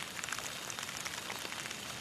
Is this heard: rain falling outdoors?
yes